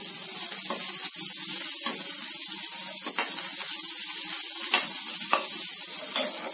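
Garlic sizzles in hot oil with mustard seeds and cumin for a jackfruit seed curry, giving a steady close frying hiss broken by scattered sharp pops and crackles as the seeds burst, with no talking.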